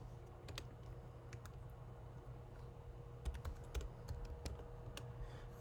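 Computer keyboard keys tapped in short irregular bursts while dates are entered into a spreadsheet, close and fairly quiet over a low steady hum, with a couple of slightly louder clacks midway and no talking.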